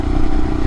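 2022 Royal Enfield Himalayan single-cylinder engine fitted with a Hitchcocks carburetor conversion, bogging under wide-open throttle with a loud, dense, resonant rumble through the airbox, close and steady for a brief moment.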